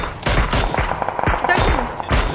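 Rapid, loud automatic gunfire rattles close up in a shooter video game, with short clustered bursts packed tightly across a couple of seconds.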